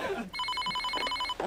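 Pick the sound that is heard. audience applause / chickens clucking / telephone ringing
telephone ringing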